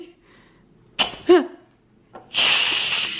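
Steam bursts from a pressure cooker's release valve, with a short hiss near one second and a loud, sustained hiss in the final second, heard up close with no talking.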